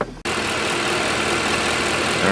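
A Mercedes ML63 AMG with the M156 engine idles steadily and close by, a loud, even rumble that starts abruptly after a brief quiet moment and holds without talk.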